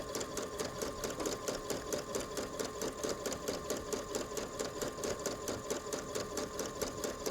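A sewing machine stitches pink-thread embroidery onto a basic jacket, its rapid rhythmic needle chatter running steady and close throughout with no pauses.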